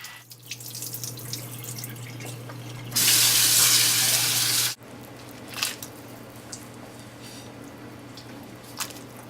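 Preserved pickled vegetables are rinsed under a running kitchen tap: a loud steady gush of water lasting about two seconds, with quieter handling, drips and small splashes before and after.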